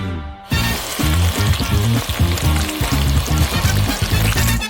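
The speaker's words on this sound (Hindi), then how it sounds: "मैं कर्ड चीज लूंगी और इसे एक कटोरे में डालूंगी और अब मैं उसमें चॉकलेट डालूंगी और मिक्सर के साथ सब कुछ अच्छी तरह से मिलाऊंगी।" An electric mixer whirs loudly in a bowl, blending curd cheese with chocolate; it starts abruptly and then keeps a dense, steady, close-up churning with a slight pulsing rhythm and no talking.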